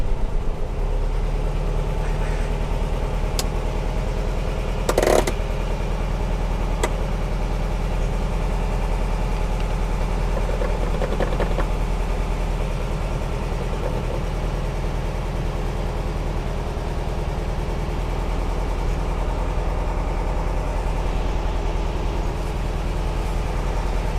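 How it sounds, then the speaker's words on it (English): A 1967 VW Karmann Ghia engine, warmed up, runs at a steady low idle, a continuous deep rumble with a brief clank partway through, close by and with no talk. "Let's see what the engine's doing. Sounds like it's warmed up pretty good."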